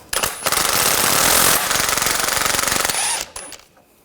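A 10mm socket on a power tool rattles loudly in a rapid hammering burst, removing sway bar bushing bracket bolts under a 2015-2020 Cadillac Escalade, with a brief pause and then a second run before it stops.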